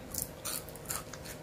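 Crispy fried shrimp being bitten and chewed up close, several quick crackling crunches in a short burst, quiet and without talk.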